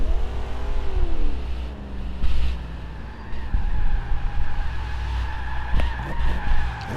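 Tires squeal and skid as a car drifts in a racing video game, long wavering screeches over a revving engine, swelling and fading in repeated bursts close by.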